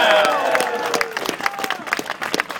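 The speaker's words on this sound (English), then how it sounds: "Give yourselves a round of applause." Crowd applause and cheering at an Occupy LA protest outside city hall, a dense burst of clapping and whoops with overlapping voices, loudest at the start and thinning out.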